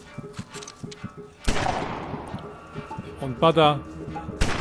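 Video game gunfire in Greyhill Incident comes as sharp, loud cracks. One blast lands near the middle and is followed by a rolling tail, another comes near the end, and someone talks in between.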